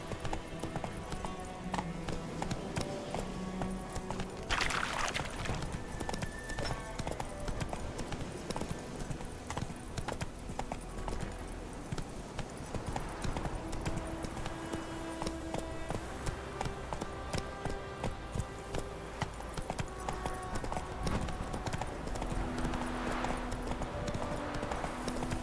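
Hoofbeats of Roach, the horse from The Witcher 3, gallop in a steady, continuous clip-clop rhythm throughout, close and prominent over a layer of game ambience and music.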